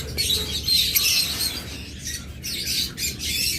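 Caged breeding lovebirds at a bird seller's let out sharp squawks and bright chirps in a busy, overlapping chorus. The calls come close and steady, with a few brief pauses between bursts.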